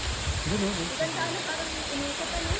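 Tabayigan Falls pours with a constant broadband roar of falling water, steady and fairly loud throughout, while a person talks over it.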